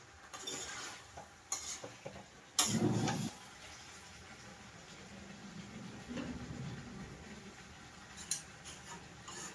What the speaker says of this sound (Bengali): আমি মাংস কষাচ্ছি